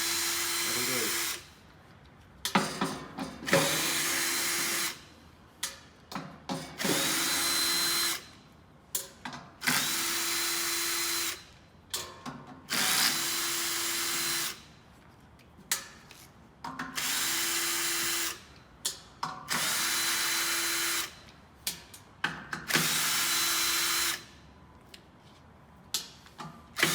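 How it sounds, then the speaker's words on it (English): Cordless drill fitted with a 10mm socket undoes bolts on a Jayline UL200 door lever arm: repeated close, loud whirring runs of one to two seconds with ratcheting clicks, separated by short pauses and handling noise. "I'm using a drill with a 10mm socket instead of a spanner"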